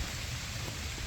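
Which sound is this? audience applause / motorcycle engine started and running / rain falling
rain falling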